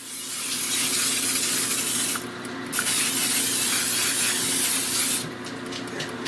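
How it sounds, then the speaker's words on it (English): Two bursts of close non-stick cooking spray hissing from an aerosol can, each lasting a couple of seconds, separated by a short pause. "go ahead and grab some non-stick cooking spray and just give it a light little"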